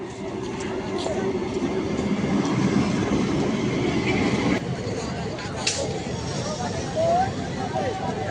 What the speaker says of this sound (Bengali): একটা ট্রেন যাচ্ছে আর একটা ট্রেন আসছে,